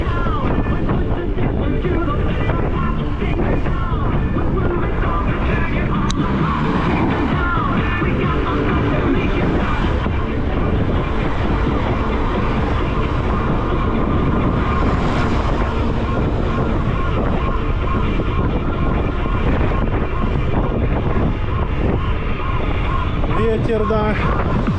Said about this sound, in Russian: Ветер, да.